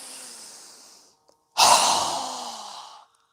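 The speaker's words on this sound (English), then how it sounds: "Strong exhale again." Two forceful breaths during a yoga breathing exercise: a softer exhale fading out, a brief pause, then a strong, loud, breathy exhale lasting about a second and a half, close up with no talking.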